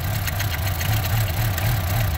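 Chevy Cobalt engine with an overhead cam, running steadily with a low rhythmic pulsing hum and faint mechanical ticking, close and fairly loud, no voices.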